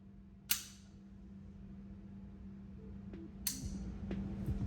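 Kimber R7 Mako pistol fired on an outdoor range, two sharp gunshots about three seconds apart, moderately distant, with faint metallic clinks between them over quiet background hum.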